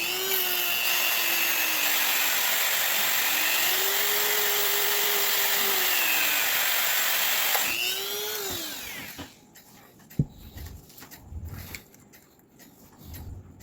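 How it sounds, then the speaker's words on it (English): A high, whining rotary tool polishing metal cuckoo clock parts runs steadily, its pitch dipping and rising as it bears down on a part, then it winds down to clicks and handling noises. "Using my drill and my rotary tool both."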